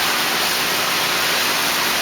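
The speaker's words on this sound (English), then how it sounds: "That's the other filter running on the other side." Rotating drum filter running in a home-built aquaculture system, a loud, continuous rushing hiss of water with a faint steady whine riding above it, unchanging throughout.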